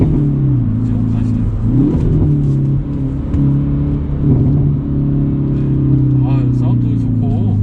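A Hyundai Veloster N engine blips and revs through heel-toe downshifts, rising and falling in pitch under a steady cabin drone, with someone talking over it.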